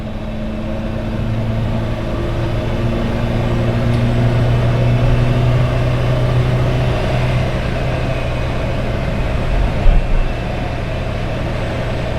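An Australian-assembled Peugeot 404 engine pulls steadily under way, a loud continuous drone with a low steady hum and road rumble heard from inside the moving car, no voices.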